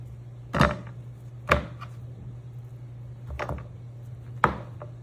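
Knife chopping peeled, skinless onion halves on a cutting board: four sharp, well-spaced thuds with a steady low hum running underneath and no voices.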